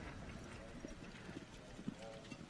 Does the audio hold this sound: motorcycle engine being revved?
no